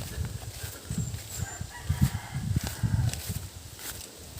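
Gamecocks and other chickens cluck and call close by, with a rooster crowing among them, likely on a rural property. The sounds come in an uneven, busy run over faint footsteps and stir, with no talking.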